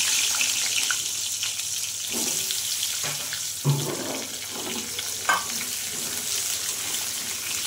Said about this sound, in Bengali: মাছগুলো তুলে নিয়ে ওই তেলেই আমি আলু দিয়ে দিচ্ছি